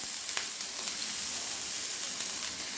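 Ginger dropped into hot oil with cumin seeds, frying with a steady, close sizzle and hiss that holds at an even level throughout, with a few faint crackles.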